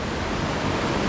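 Steady, loud broadband rush of Taytay waterfall in Majayjay, Laguna, a continuous close roar of falling water with no breaks and no voices.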